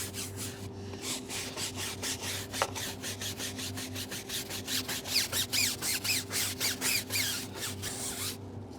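Brush scrubbing a car tyre coated in SONAX Multistar APC cleaner, a close, rhythmic run of rough back-and-forth strokes, about a dozen scrapes with no talking.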